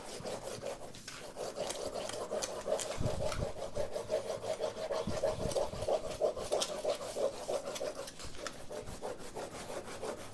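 An old, very hard chestnut is rubbed back and forth over a bamboo leaf to flatten its ridges, producing a close, steady rasping scrape in quick repeated strokes with no talk.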